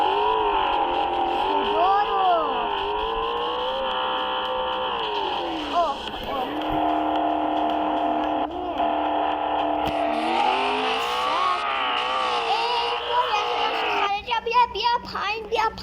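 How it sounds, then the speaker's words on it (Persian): A car engine hums and revs steadily for several seconds, its pitch rising and falling, while children talk excitedly nearby. "عجب ماشینی این چیه؟"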